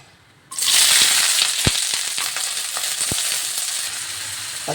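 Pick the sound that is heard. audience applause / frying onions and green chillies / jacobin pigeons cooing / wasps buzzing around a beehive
frying onions and green chillies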